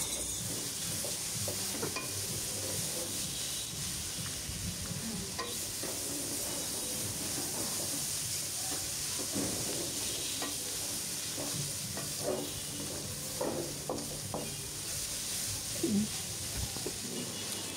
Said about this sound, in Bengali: এরপর শুধু ভাজতে থাকবো অল্প আঁচে